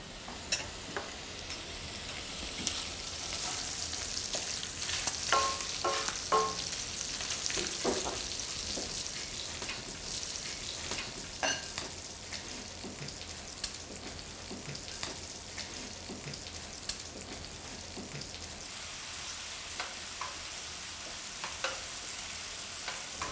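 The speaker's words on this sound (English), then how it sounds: "we're going to let this half cup or so reduce down to just a little bit more than a tablespoon" Vinegar and sugar reduce in a pan with bacon fat, giving a steady, moderately loud sizzle and bubbling with scattered sharp crackles and pops throughout, no talking.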